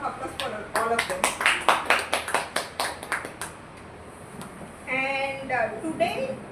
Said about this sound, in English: let's give a big round of applause for all of them